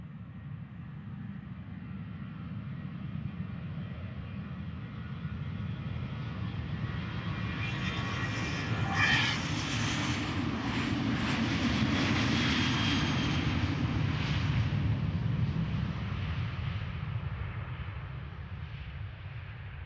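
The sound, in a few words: airliner departing Amsterdam Schiphol Airport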